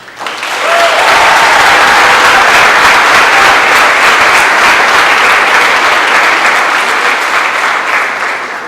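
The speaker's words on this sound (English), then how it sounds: "I would like to pause and give Mr. Muhammad a huge round of applause" A large graduation ceremony crowd gives Mr. Muhammad a huge round of applause: loud, dense, sustained clapping that swells quickly and holds for several seconds before easing slightly.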